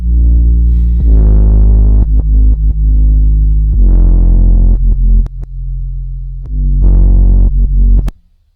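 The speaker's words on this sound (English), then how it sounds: "We've added a ton of distortion to it, and listen to what that distortion does" Heavy, distorted 808 sub-bass notes rumble and throb in a slow pattern, loud and gritty with added saturation, ending with a sharp cutoff.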